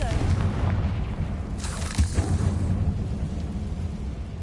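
Confringo spell blast in the Hogwarts Legacy video game: a booming explosion burst around the middle, with a rumbling, noisy roar before and after it and game voices nearby.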